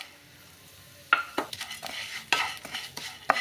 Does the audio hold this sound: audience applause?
no